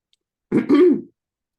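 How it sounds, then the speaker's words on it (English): One short, close throaty cough or throat-clear, a single rough burst surrounded by silence. "The polar bear coughs."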